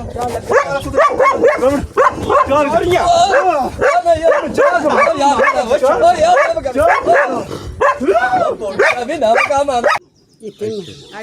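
A dog barks and yips repeatedly, loud and close, while people talk over it. The barking stops abruptly near the end.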